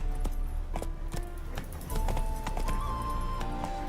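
Roach, a horse in the video game The Witcher 3 Wild Hunt, galloping: quick rhythmic hoof clops repeat close by, steady and fairly loud over a low ambient bed.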